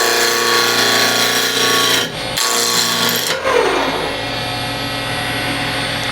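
A wood lathe spinning a red resin and gum box at about 1700 RPM while the edge is rounded over. It gives a loud, steady whirring drone, with a short dip near two seconds and a rougher cutting tone after the tool bites.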